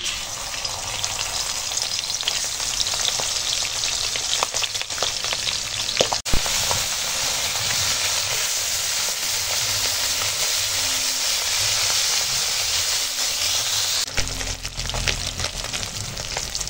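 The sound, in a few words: fish frying in oil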